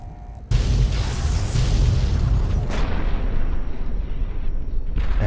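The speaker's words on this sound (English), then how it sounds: "a bunch of explosions everywhere" Explosions go off everywhere in the video game Fallout: New Vegas, a dense, continuous roar of booms and blasts that fills the whole stretch, then cuts off sharply near the end.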